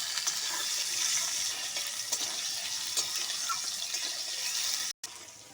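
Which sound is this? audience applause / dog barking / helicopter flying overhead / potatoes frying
potatoes frying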